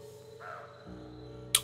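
In a creepy video-game graveyard, crows give faint, hoarse caws over a low droning ambience, with a sharp click near the end.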